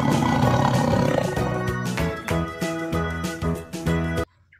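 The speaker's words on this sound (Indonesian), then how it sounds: "Dan ini adalah harimau." Sumatran tiger roar, loud and sustained with pulsing rumbling bursts, cutting off abruptly near the end into near silence.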